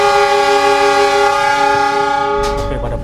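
Diesel locomotive CC 206 hauling the Cikuray passenger train in Sumatra sounds a long, loud, steady horn blast close by as it departs the station, followed by a heavy low engine rumble at the end.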